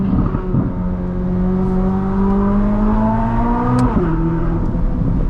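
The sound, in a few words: sports car engine exhaust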